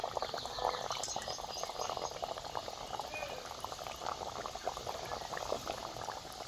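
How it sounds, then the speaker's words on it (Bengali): Nimki pastries deep-fry in hot oil over low flame, a dense continuous bubbling crackle and hiss that stays steady and close throughout with no pauses. "এবার আমি নিমকিগুলো ভেজে নেব"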